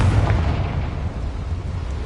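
A Confringo blasting spell goes off in Hogwarts Legacy, a loud, dense rumbling blast that sustains its heavy low roar throughout with no voices.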